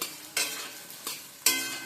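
Pre-cut potatoes hit hot oil already fragrant with tempered spices and a bay leaf, frying for Bengali chana dal: three sharp bursts of sizzle and stirring scrape, loud and close, with quieter frying between, no talk.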